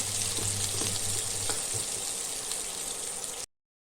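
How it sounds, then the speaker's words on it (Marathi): Chopped onion sizzles steadily in hot oil in a pan with cumin, a continuous bright frying hiss with a few soft stirring scrapes, close and alone for about three and a half seconds. "इथं आपण चांगलं परतून घेऊया कांद्याला"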